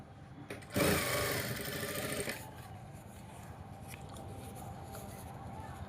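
A domestic sewing machine stitches a fabric neck border in a short, loud whirring run of about a second and a half, then drops back to a quiet hum.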